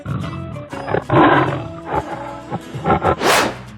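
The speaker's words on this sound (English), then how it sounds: "Tiger." Loud roaring from a tiger in a 3D animal video game, rough growling bursts repeating through a few seconds and rising to a final harsh roar.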